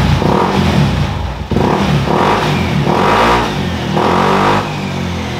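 Loud Honda PCX 160 scooter engine revving up repeatedly in several rising bursts, close by with rattling idle between revs.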